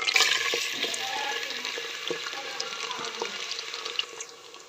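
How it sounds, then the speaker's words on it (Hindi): Onions dropped into a cup of well-heated oil give a steady, bright sizzling hiss with small pops. The sound is close and fairly loud and fades slightly toward the end, with no talking over it. "1 कप ऑयल कर लिया हमने, गरम कर लिया अच्छी तरह। अच्छे से गरम हो गया। अब इसमें हम प्याज डालेंगे।"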